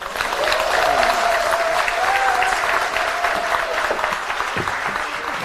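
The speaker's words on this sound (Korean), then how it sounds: "다시 한번 박수 드리고요" Steady, full audience applause fills a hall at a Seoul women's political academy opening ceremony, sustained clapping from a large crowd heard loud and close, with a faint tone running underneath.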